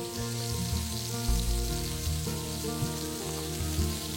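Red mullet fillets fry in oil in a pan with a steady, close crackling sizzle, mixed with a low musical hum, and no one talks.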